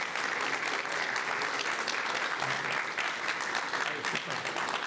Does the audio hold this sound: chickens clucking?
no